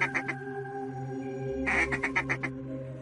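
A bird in the puzzle game Forgotten Hill: The Wardrobe quacks like a duck, a quick run of nasal quacks followed by a louder burst of several more, close and clear over a steady tonal game music bed.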